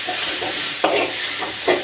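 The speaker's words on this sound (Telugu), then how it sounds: "టమాటాలు వేసుకున్నాం కదండి." Tomatoes added to a hot pan with green chillies, ginger and garlic sizzle continuously, with a few sharp scraping bursts as a spoon stirs them, close up and no talking.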